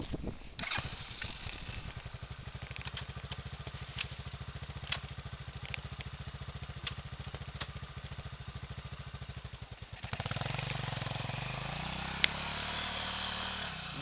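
A Bashan 200 ATV engine cranks over with a steady rapid pulsing, then catches and runs with a louder, rougher idle for the last few seconds, heard close by outdoors.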